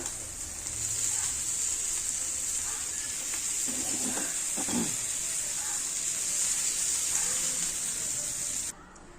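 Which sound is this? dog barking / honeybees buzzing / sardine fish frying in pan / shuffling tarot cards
sardine fish frying in pan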